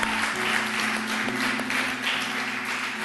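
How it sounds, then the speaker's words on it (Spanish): A church congregation at a Sunday service applauds together, a continuous wash of clapping with a faint steady hum beneath it. "denle el aplauso al Señor"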